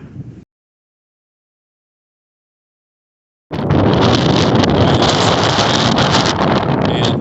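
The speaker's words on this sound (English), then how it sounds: "it's just a cold wind, and it's really breezy" Cold, breezy wind on the Appalachian Trail roars against the microphone in a loud, steady rush after a short burst and a few seconds of near silence.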